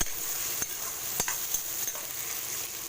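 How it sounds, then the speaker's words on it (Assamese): Tomatoes stirred and frying in a pan, a steady sizzle with a few sharp spatula scrapes against the metal, close and alone. "বিলাহীখিনি জহালৈকে ভাজি থাকিম"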